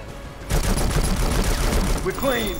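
Rapid gunfire bursts in the video game Conflict: Denied Ops, a loud sustained volley after a brief quiet start, with a voice speaking briefly near the end.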